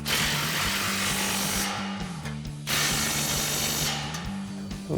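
A 14 mm socket ratchets exhaust flange bolts tight on a Toyota Tundra's C&L dual exhaust, a steady buzzing mechanical rasp running in two long bursts with a short dip between, loud and close.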